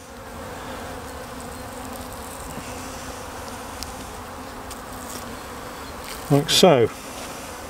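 Honeybees gather at a Bee Pro pollen substitute patty, a steady, close swarm buzz running throughout, with a brief spoken phrase and a short louder burst of handling noise near the end.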